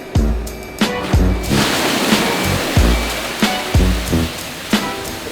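Water gushes and splashes out of an emptied road sweeper tank in a heavy, continuous rush, broken by repeated dull thumps, loud and close.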